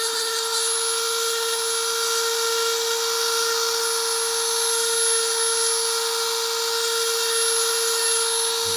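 A Dremel rotary tool power-carves a wooden Grinch figure, rounding over sharp edges with a steady, continuous high-pitched whine that holds at an even level throughout, close up and with no talking.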